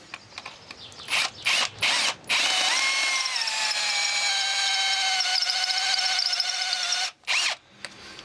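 A power drill fitted with a diamond core bit cuts out a concrete anchor, a few short bursts giving way to a long steady high-pitched whine that drops slightly in pitch before stopping and briefly restarting.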